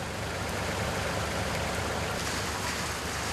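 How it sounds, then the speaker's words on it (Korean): Steady rain shower over an outdoor site where workers are transplanting pine trees, a continuous broadband hiss of falling drops holding at an even level. "점점 잦아드는 빗방울."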